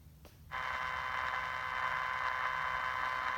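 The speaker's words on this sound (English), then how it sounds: "Just sort of normal background static." Background static on AM mediumwave at 1580 kHz through a Tecsun PL-310ET radio receiver, a steady hissing noise with a faint hum that switches on after a brief click and holds on evenly.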